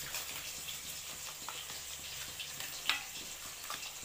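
Fish frying in a pan for a katla curry, a soft, steady sizzle with light crackles and one brief sharp pop, quiet and without talk.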